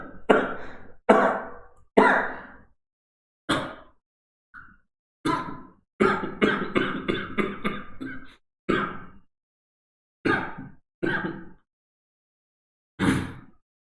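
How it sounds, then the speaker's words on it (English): A series of separate breathy bursts, some single and some in quick runs, sounding like coughs and throat clearing with silent gaps between them. "I think that was just a cough."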